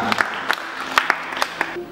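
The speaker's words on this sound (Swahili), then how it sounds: "Pigie Bwana Yesu makofi" A church congregation claps for Jesus in a short, scattered burst of separate hand claps, fairly close and uneven, fading after about two seconds.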